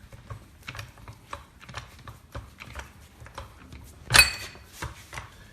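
A hydraulic floor jack is pumped by hand, giving a rapid run of close, dry mechanical clicks and ratcheting knocks, with one louder clunk near the end.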